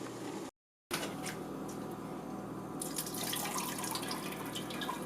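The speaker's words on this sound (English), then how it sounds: "so let's drain it now and strain it." Boiled spinach water is drained and strained, pouring and splashing steadily at close range for several seconds, briefly cut by a short gap, then growing brighter and more splattery toward the end, with no talk.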